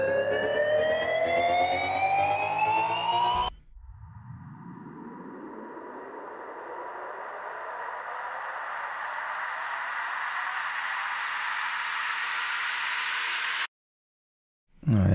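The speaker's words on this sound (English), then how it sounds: "Let's go and get a riser." A techno riser effect sweeps steadily upward in pitch, swelling louder for about ten seconds before cutting off abruptly into silence. It follows a brief rising synth tone.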